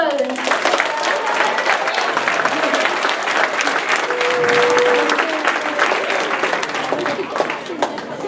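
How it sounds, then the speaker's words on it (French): Sustained applause from a crowd at the opening ceremony of a Lego FIRST robotics event, honouring the volunteers; the clapping stays loud and dense throughout with a murmur of voices mixed in. "une bonne main d'applaudissements pour nos bénévoles"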